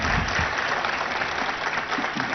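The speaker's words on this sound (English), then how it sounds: "they deserve a big round of applause first." An audience at a 3.0 event bursts into dense, continuous applause, loud and steady clapping from a large crowd throughout.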